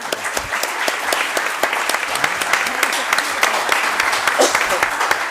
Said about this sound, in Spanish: yo creo que podemos cerrar esta mesa con un fuerte aplauso